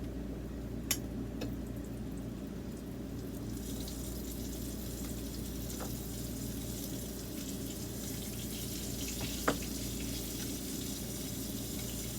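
Floured minute steak fries in hot grease in an RV kitchen, giving a steady dense hiss and crackle that carries on evenly throughout, with a couple of sharp clinks from the pan and no talking.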